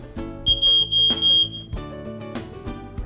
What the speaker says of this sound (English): There is a smoke detector in every one of our residences.